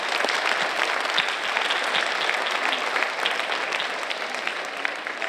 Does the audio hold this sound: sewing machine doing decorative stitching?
no